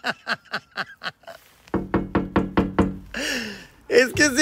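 Knuckles rap on a door in a quick run of about five close, sharp knocks, then after a pause a second, louder run of about six more knocks. A voice speaks near the end.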